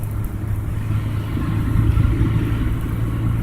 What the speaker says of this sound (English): This is where the traffic is starting to back up.